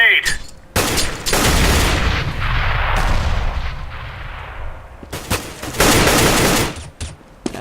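In the Counter-Strike video game, a grenade goes off with a heavy, sustained blast, then sharp gunfire volleys crack loudly in quick bursts toward the end.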